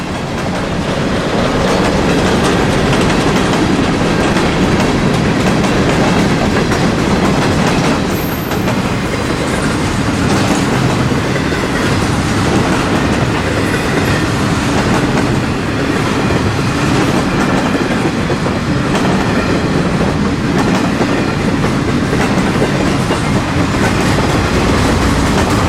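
A long CSX freight train rolls past out of Tampa, loud and close, with constant rumbling and rhythmic clickety-clack of wheels over rail joints for the whole stretch.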